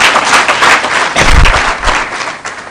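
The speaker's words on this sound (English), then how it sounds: "resounding round of applause." A loud, enthusiastic round of applause fills the hall at a teacher awards event, dense clapping and crowd noise close and sustained throughout the short burst.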